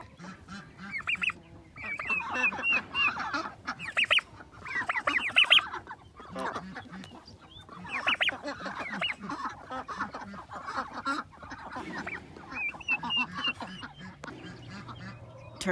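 Turkeys, ducks and chickens call repeatedly in a pen, a busy overlapping mix of clucks, quacks and gobbling cries in irregular bursts at moderate distance, continuing throughout.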